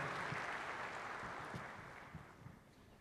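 An audience applauds at a formal ceremony as a professor is invited to the stage, a steady wash of clapping that slowly fades.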